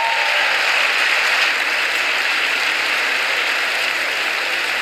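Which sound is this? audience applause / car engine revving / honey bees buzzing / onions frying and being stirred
audience applause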